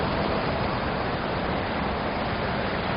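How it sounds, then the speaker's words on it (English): Steady wash of ocean surf rolls continuously on a beach, a broad even roar with no voices heard. "But you can probably hear the waves."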